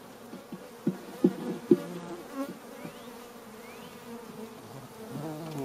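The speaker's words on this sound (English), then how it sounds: "It's kind of hard to do when you guys are buzzing." Honey bees buzz around an open hive while a beekeeper adds a super, a low steady hum with a few sharp knocks and thumps from handling the equipment near the start.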